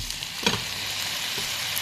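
Chicken pieces drop into a pan of frying garlic, ginger and onion, giving a brief thump and then a loud, dense, continuous sizzle close by.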